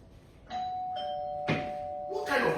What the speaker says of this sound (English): So who is pressing the bell?